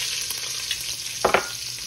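Onions and celery frying in a pan used earlier to brown pork leg for a slow braise: a soft, constant sizzle with a couple of brief louder scrapes or clatters near the end, close by, with no speech.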